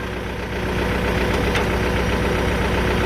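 A Kubota MU4902 tractor from 2019 runs at a steady, loud idle-like drone, with its rear rotary tiller spinning on the power takeoff, a continuous mechanical hum with no pauses.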